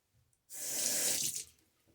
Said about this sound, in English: getting your head down in there in the sink and just really getting a good complete rinse